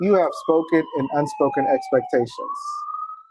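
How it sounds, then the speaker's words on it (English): An ambulance siren wails in the background as a steady, slowly sliding tone beneath a person who talks throughout. "sorry about the noise, ambulance in the background"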